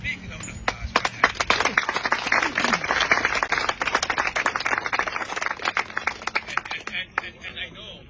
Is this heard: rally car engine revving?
no